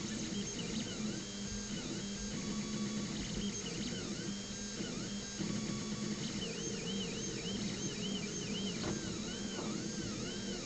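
A Tevo Tarantula Pro delta 3D printer with an E3D Chimera hot end runs mid-print, giving a steady, continuous mechanical whir with shifting stepper-motor tones and warbling pitches, close by and unbroken throughout with no talking.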